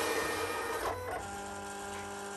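A Silhouette Cameo cutting machine scores paper, its steady mechanical whir and buzz running close and fairly loud, with a brief shift in pitch partway through.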